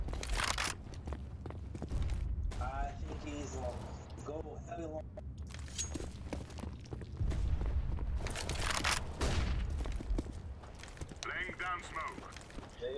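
Gunfire in the video game CS:GO, heard as several sharp shots and short bursts spread through the stretch, mixed with a game's clattering effects while players talk over it.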